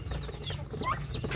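Seven newly hatched ducklings peep in quick, high, repeated chirps, close and fairly soft, with no talking over them.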